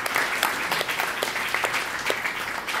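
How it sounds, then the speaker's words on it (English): Audience applause for a lecturer at a society gathering, steady dense clapping from a room full of people, even and continuous throughout with no talking. "Give a round of applause for Elizabeth Sokolow"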